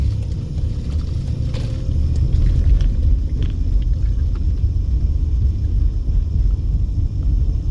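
A car drives along a city street in Las Vegas, its low road rumble and engine hum steady and close from inside the cabin, with faint clicks and no talking.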